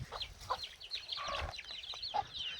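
Free-range village farm chickens and chicks clucking softly at a distance, with scattered calls over a faint background.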